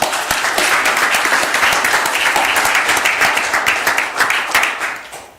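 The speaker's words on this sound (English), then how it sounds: "Let's give all of them one more round of applause." A full round of applause rings out from attendees at a board of directors meeting, loud and continuous, then tapers off at the very end.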